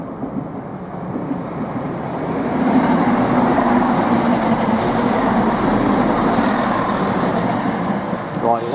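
A Greater Anglia Class 170 diesel train arrives at a station, a rumbling rolling roar that swells and holds, with clicking wheels and a brief squeal near the end.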